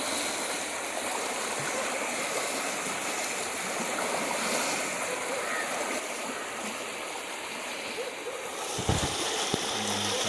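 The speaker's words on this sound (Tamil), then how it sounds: "தண்ணி பார்த்திங்கன்னா ரொம்ப வேகமாக போகுதுங்க" Fast-flowing water rushes steadily down a narrow LBP irrigation canal about three feet wide, a continuous broadband roar close by, with a brief louder splash or knock near the end.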